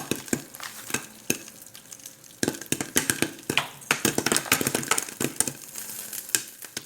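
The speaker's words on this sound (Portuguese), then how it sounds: "você já pensou como um grão de pipoca se torna uma pipoca? Sabe por que eles estouram?" Popcorn kernels popping in a pan over a flame give irregular sharp pops and clicks that come faster toward the end, close up over a soft sizzling hiss, with no talking.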